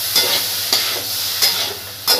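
Chana being stirred and fried with softened onions in a pan: close, loud sizzling with four sharp scraping stirs at regular intervals over the constant crackle, no voices.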